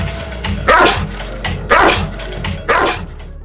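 A Cane Corso barks three times. Each is a loud, deep single bark, spaced about a second apart, close by over a quiet background.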